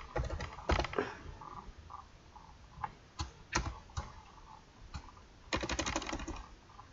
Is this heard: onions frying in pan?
no